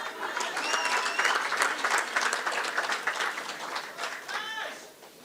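Applause for teachers at a graduation ceremony in Gauteng, a broad crowd clapping steadily with faint whoops and calls rising above it, thinning toward the end.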